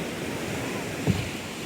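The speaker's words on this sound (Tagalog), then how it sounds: "Lagi na laking alon to." Ocean waves surge on a crowded beach, heard as a steady, fairly faint wash of surf and wind noise with a small bump near the middle.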